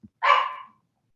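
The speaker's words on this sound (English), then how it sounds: "I'm sorry about the dog." One short, sharp bark from an indoor dog, close and fairly loud, stands alone after a brief tap, with silence around it.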